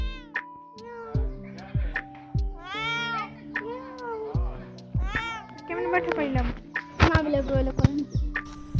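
Several cat meows, some drawn out and rising, repeat close by over a steady electronic background melody, with a voice briefly mixed in.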